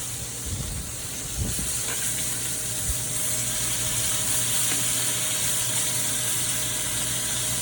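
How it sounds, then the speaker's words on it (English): Scallops searing in a hot pan, ready to be flipped, give off a loud, steady sizzle and hiss that holds up close for the whole stretch, with a few faint clinks near the start. "see that dark color that we're getting on the side of the scallops right there? We know we're ready to flip those."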